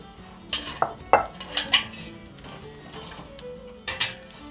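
Metal pots and a kettle clank and clatter as they are handled in an 18th-century style kitchen, several sharp knocks and scrapes close by, alone without talk.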